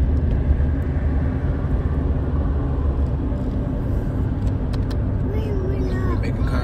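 A car on the move, its engine and road rumble forming a steady low drone throughout, with a faint rising tone near the end.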